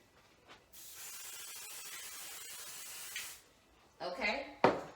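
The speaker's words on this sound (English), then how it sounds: "So I'm going to go ahead and spray my hoop." A few close, loud hissing bursts of 505 temporary adhesive spray from an aerosol can are applied to an embroidery hoop, followed by a short rustle and a couple of sharp clicks.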